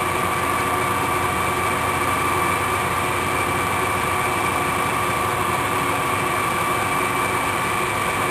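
A lathe runs steadily while punching a hole through the center of a workpiece, giving a continuous, even mechanical hum and whine that holds without a break throughout.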